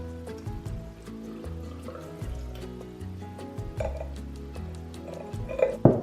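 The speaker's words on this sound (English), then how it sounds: "And then just pour it over your apples." Sugared filtered water poured over apples in a container for homemade organic apple cider vinegar, a steady close trickle and splash that swells in the last seconds, with faint clinks of dishware.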